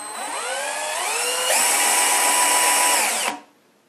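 A Dextra 15016 12-volt lithium-ion cordless drill runs alone, whining loud and close as its variable-speed trigger ramps up to a higher steady pitch, then spins down and stops after about three seconds.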